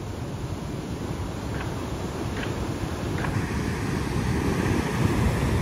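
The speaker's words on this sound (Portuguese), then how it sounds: "E o mar hoje tá bravinho, né?" Rough sea waves breaking at Praia Vermelha do Norte, a surf beach in Ubatuba, heard as a steady roaring wash mixed with wind noise that swells slightly louder toward the end.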